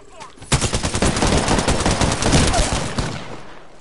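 Rapid automatic gunfire rattles in a video game battle, with dense bursts of shots that start abruptly, stay loud and continuous for a few seconds, then taper off.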